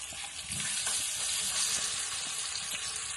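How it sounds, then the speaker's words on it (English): Chicken pieces frying in a frying pan, a steady bright sizzle with soft crackles, close and continuous. "now I'm going to put the chicken in the frying pan"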